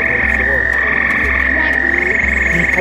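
A grey tree frog croaks loudly and close, giving a steady, continuous trilling call with a few faint voices in the background.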